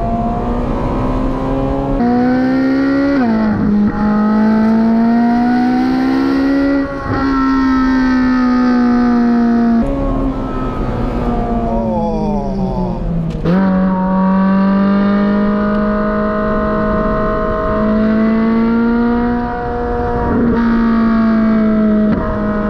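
Ferrari 458 Speciale Aperta V8 revving hard toward 9,000 RPM, loud and close, climbing in pitch through several gear-like sweeps and dips with a rich harmonic wail, with no talking over it.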